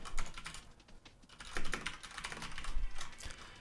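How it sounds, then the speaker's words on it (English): Rapid, irregular typing on a computer keyboard, near and fairly soft, with clustered bursts of key clicks running throughout and no one talking. "This is just me blabbering on the keyboard."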